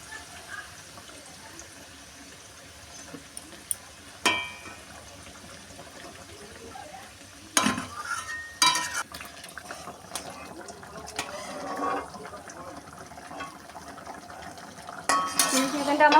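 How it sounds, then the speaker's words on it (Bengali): Fried chicken pieces simmering in a thick chili chicken gravy, with a low bubbling hiss and intermittent bursts of spoon scraping and clattering against the pot, loudest toward the middle and end. "ভাজা মাংস পিসগুলো দিয়ে এবার আমি একটু ফুটিয়ে নেবো"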